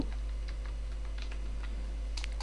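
Soft, irregular key taps on a computer keyboard, including a slightly sharper final press like the Enter key, quiet and close in an otherwise still room with a low steady hum.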